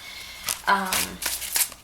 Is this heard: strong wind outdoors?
no